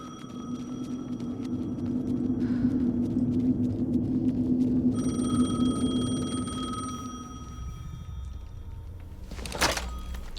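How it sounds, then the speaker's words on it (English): Telephone ringing in Alan Wake 2, a steady tonal ring over a low droning ambience, cutting in and out over several seconds, with a sharp thunk near the end. "The phone again."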